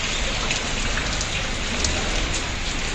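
Steady rain falls in Kashmir, a dense, continuous hiss of drops hitting surfaces. It is close and even throughout, with no pauses.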